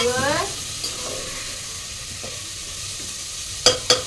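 Loud sizzling of oil in a hot pan with scraping stirring, then sharp crackles near the end; no talking.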